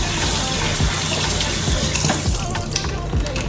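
Tap water runs steadily into a sink as tilapia fish is rinsed, a close, continuous gushing splash with occasional brief knocks of handling, and no talking.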